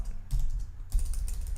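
A short burst of typing on a computer keyboard, close and clear, with a few quick key clicks in two brief clusters.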